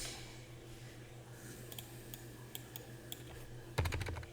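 Computer keyboard keys tapped while entering an answer to a digital SAT math practice question, a few scattered clicks over a steady low hum, ending in a louder burst of handling noise.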